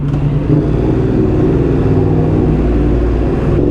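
A race motorcycle's engine runs up close with a loud, steady, rough drone that holds an even level throughout, with no pauses or voices.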